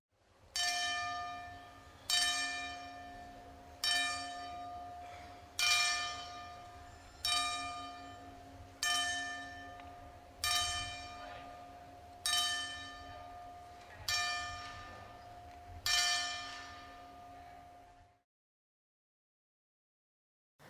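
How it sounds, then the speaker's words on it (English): A church bell tolls ten times in an even, slow rhythm, each loud ringing strike decaying before the next, then silence. "I'd like to offer my own 10-bell salute to Jonathan Huber"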